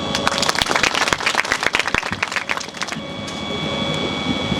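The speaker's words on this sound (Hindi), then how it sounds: "तालियां भैया।" Audience applause at a college nature outreach program in Sousar Range, South Chhindwara: dense, enthusiastic clapping from a crowd that thins and fades over a few seconds into room murmur.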